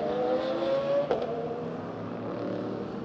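Porsche race cars running at the Hockenheimring, a continuous engine whine and roar heard from a distance, with one rising tone that cuts off and then a steady mechanical drone.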